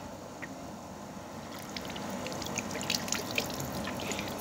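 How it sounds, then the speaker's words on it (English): Tap water runs as hands are wetted for handwashing, giving a soft, steady trickle with faint splashes that grow a little busier toward the end. "wet your hands."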